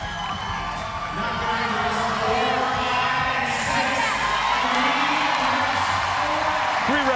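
A CrossFit Games crowd cheers during the men's final heat, with loud continuous shouting and whooping that rises after the first second and stays strong, while an announcer talks over it.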